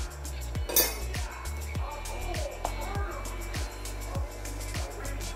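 Durian mixture being stirred with fresh cream in a bowl for a durian mousse cake: utensil clinks and scrapes against the bowl in a steady rhythm, close up, over quiet background music.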